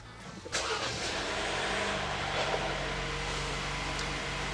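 A Jeep Wrangler JL engine cranks and catches, then settles into a steady, loud rumbling drone that fills the rest of the clip with no talking.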